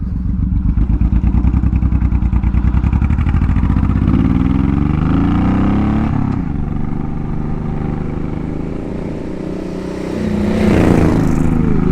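A Honda VTX1800 cruiser motorcycle riding on a highway, its big engine loud and close with a deep, throbbing idle-to-cruise rumble that rises through gear changes and swells again near the end, with no voices.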